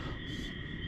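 Night frogs at a pond croaking and chirping in a dense, continuous chorus, a steady high ringing trill over low rumbling background noise, fairly faint and distant.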